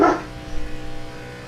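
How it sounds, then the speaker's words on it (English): A pet dog in a house barks once sharply, then gives a few softer whimpering yips that trail off, heard fairly close with no talking. "I hear my dog's going crazy."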